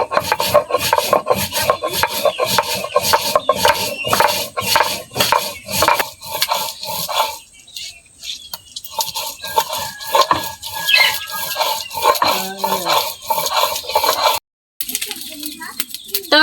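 Cumin, ginger and garlic are ground into a paste by hand in a village kitchen. A steady, rhythmic gritty rubbing of stone on stone repeats close up, with brief pauses and someone speaking in between.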